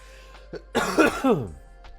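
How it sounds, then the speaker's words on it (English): A single person's cough, a brief burst of harsh coughing with throat-clearing character, close and fairly loud, preceded by a couple of faint small sounds. "I can't get rid of this cough"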